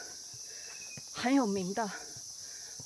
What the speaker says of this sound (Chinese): 你们听，这里山里的蝉鸣声、鸟叫声